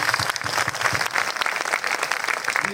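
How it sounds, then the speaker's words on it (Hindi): A crowd claps loudly and continuously for a speaker at a public gathering, dense steady applause filling the whole stretch with no voices over it. "जोरदार ताली हम लोग करते हैं"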